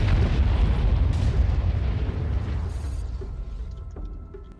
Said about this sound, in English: the cannons, they hit like a bit of a train